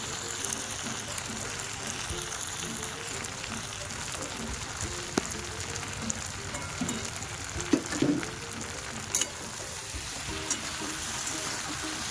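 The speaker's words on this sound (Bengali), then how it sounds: "খুব ভালো করে কষাতে হবে যাতে মশলার সাথে সমস্ত সবজিটা মেখে যায়" Fried potatoes and vegetables sautéed with spices in a pan, a steady low sizzle with occasional scrape and clink of a stirring spoon, close but fairly soft, no voices.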